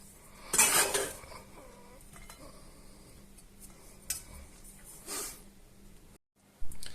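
Food with garlic is slid onto a plate, with a loud, close scrape and clatter of utensil on dishware at the start, a quieter scrape later, and a few soft clinks in between.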